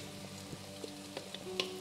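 Spices are stirred into Padang satay sauce frying in a pan, with a steady close sizzle and soft scraping stirs and light clicks of the utensil.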